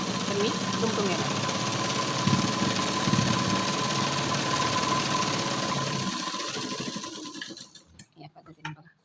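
A sewing machine runs in a steady, continuous whir, stitching a folded hem along a boat-neck blouse neckline, then slows and stops, leaving a few scattered clicks and handling noises.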